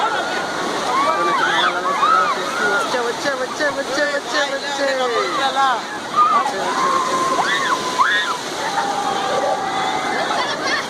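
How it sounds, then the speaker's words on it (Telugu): Strong sea waves crash and wash on Mahabalipuram beach, a constant loud rush of surf close by, with people talking and calling out over the water. "ఇక్కడ అలలు చాలా గట్టిగా వస్తున్నాయి, చాలా గట్టిగా వచ్చి పడుతున్నాయి"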